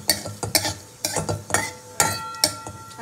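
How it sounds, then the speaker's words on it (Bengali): Black cumin and dried red chilies fry in a pan, a sizzle cut by repeated sharp scrapes and knocks of a spatula stirring at an uneven rhythm, close and fairly loud. "লঙ্কার কালো জিরেটা ভেজে নিয়ে তারপরে কাঁচা লঙ্কা আর পেঁয়াজ কুচিটা দেবো।"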